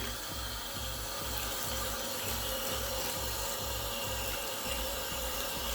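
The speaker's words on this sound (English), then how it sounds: "What I'm gonna do now is wash out the conditioner from the hair." Tap water running steadily while conditioner is rinsed out of hair or a wig, a constant close splashing wash with faint rhythmic knocking underneath and no speech.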